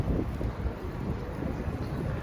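Steady wind gusting across the microphone in Warsaw's Old Town, a continuous low rumble and rush with no other sounds.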